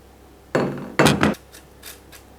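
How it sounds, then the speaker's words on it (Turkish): Beets scrape across a metal grater in two or three quick, harsh rasping strokes, close and fairly loud, followed by fainter scrapes. "Pancarlarımı aynı şekilde rendeliyorum."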